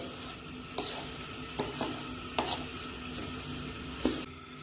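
Spoon stirring a mixture of flaxseed, wheat flour and nuts in a pan over low heat, faint soft scraping with a few sharper clicks against the pan amid a low steady sizzle.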